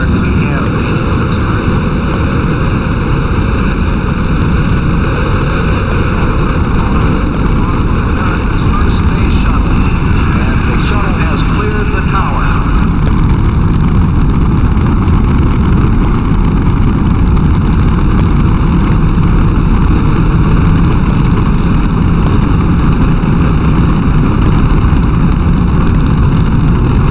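The main engines of Space Shuttle STS-1 ignite at launch, a loud sustained broadband roar with steady tonal hum and heavy wind buffeting that fills the whole span.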